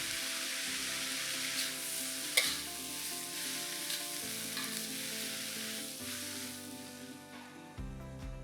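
Cabbage stir-fried with dried shrimp sizzles steadily in a hot pan, a dense continuous crackle with scraping stirs and a few sharp clicks, close and moderately quiet, no voices.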